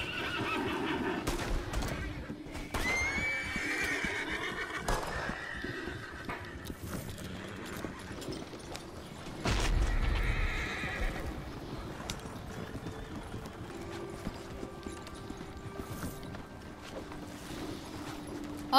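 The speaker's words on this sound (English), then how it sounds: "Hey, my horse." Horses in the Red Dead Redemption 2 video game whinny and neigh amid clip-clopping hooves, with game ambience, a distant gunshot and brief talk over the top.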